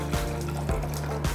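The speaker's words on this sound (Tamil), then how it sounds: "இப்போ நம்ம வரகரிசி வெண்பொங்கல் செய்கிறதுக்கு தண்ணியை குக்கரில் ஊற்றிக்கலாங்க" Water is poured into a pressure cooker for making varagu rice venpongal, a soft steady trickle and splash over a low hum with a few faint knocks, no speech.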